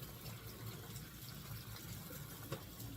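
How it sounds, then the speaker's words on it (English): Tap water running steadily over fresh basil leaves, a faint continuous splashing rush with a low hum beneath, no talking. "I'm going to rinse off all the leaves of the fresh basil."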